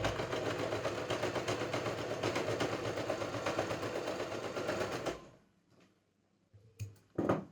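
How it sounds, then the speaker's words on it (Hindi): A sewing machine runs a steady, continuous rapid stitch through ladies' pants fabric for about five seconds, then stops abruptly, leaving a near-silent pause with a couple of faint handling knocks. "यहाँ से बिल्कुल धीरे धीरे हमें सिलाई लगानी है, जो हमारा राउंड शेप में आए"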